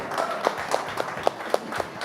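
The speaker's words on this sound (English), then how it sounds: "Can we have a warm round of applause as we welcome our debutant of the year, Ahan Pandey" Audience applause welcoming an award winner at a live awards event, a steady pattern of distinct claps with roomy crowd noise behind, moderately loud and evenly spaced.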